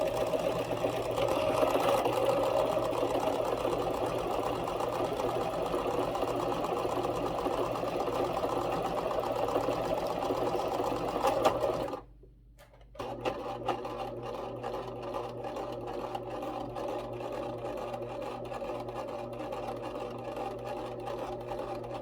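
Sewing machine stitching pet Christmas stocking fabric, a steady close mechanical whir running continuously, briefly stopping and then resuming at an even pace.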